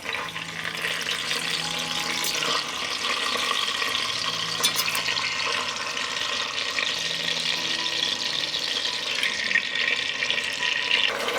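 Schnitzel frying in melted lard in a large pot gives a constant, bright sizzle and crackle, close and even, with no voices.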